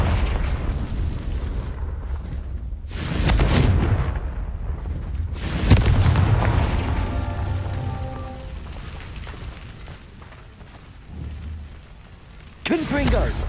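Confringo blasting spells go off in Hogwarts Legacy as several loud booming explosions, with bursts near 3, 5.5 and 12.5 seconds and rumbling, crackling debris between them. No one speaks.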